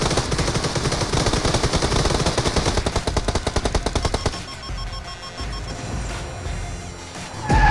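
A vehicle-mounted machine gun in a battle royale shooter fires long rapid bursts, a dense loud rattle of shots driving nearly continuously for about four seconds before tailing into engine noise and scattered impacts, with no voices.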